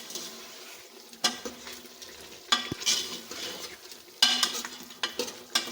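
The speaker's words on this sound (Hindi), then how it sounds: "ये देखें, अच्छे से हमारा मटन भून रहा है।" Mutton sizzles while frying in a pot with white cumin and cinnamon, with a spoon scraping and stirring in repeated close metallic knocks and clatters over a steady hiss.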